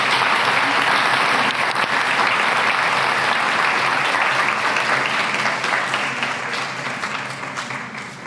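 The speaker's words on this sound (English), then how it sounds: "let's give her a warm round of applause" A school recognition day audience gives a warm, sustained round of applause for a teacher honoured for 30 years of service, the dense clapping holding steady before thinning and fading toward the end.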